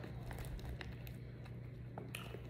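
Close, quiet crunching and biting as someone chews a crunchy healthy snack, with small irregular crackles over a low steady hum.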